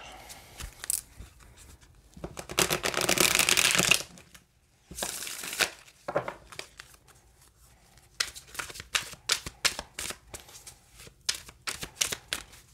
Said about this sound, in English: one more good shuffle and then we can proceed